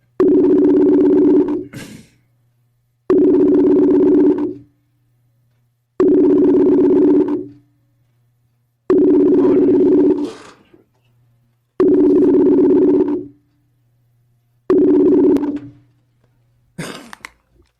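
An unanswered phone call rings back with six evenly spaced tones, each buzzing burst lasting about a second and a half and then falling silent for the same length, loud and clear with no voice over it.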